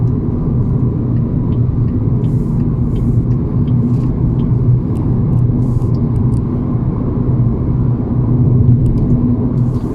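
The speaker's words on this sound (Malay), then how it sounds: "Okay, the tire roll is because of the road." Steady broadband road roar from a 2022 Proton Iriz Active on a coarse, rough road surface, continuous tire rumble heard from inside the car in slow traffic for the whole stretch, with no one speaking.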